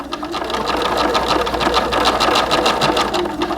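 Sewing machine stitching fabric for doll pants, a steady, loud, rapid mechanical whirring with an even rhythm of needle strokes running continuously and close by, with no talk over it.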